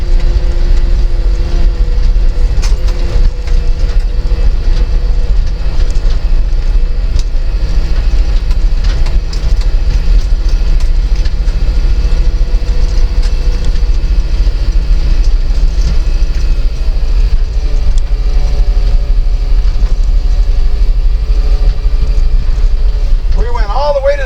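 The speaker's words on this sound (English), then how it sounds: "I've always liked that granny low, man. You practically idle it up a hill, man." Truck engine idling in granny low gear while climbing a steep driveway, a steady low rumble that runs continuously, with someone talking over it in places.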